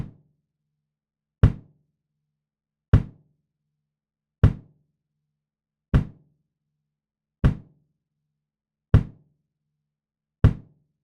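Eight evenly spaced drum hits from a miked drum kit with its microphone signals phase-aligned, each a sharp punchy thump with a full low end, about one and a half seconds apart in an otherwise silent room.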